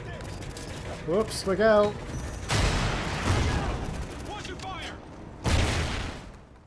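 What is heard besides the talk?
gunfire from weapon in Call of Duty Ghosts video game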